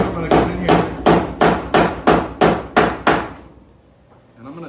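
Nine evenly spaced hammer blows tap sheet metal down on a car body during welding work, loud and close with ringing metallic strikes, followed by a moment of quiet.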